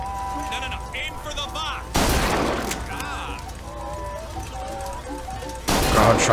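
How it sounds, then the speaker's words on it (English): A shotgun in the video game BioShock Infinite fires two loud, close blasts, the first near two seconds and the second near the end, over a game soundscape with music and effects. "this thing's a real fucking shotgun"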